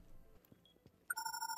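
A telephone rings in the video game Rainbow Six Siege, a sudden bright electronic ring bursting in after a second of quiet, faint room sounds.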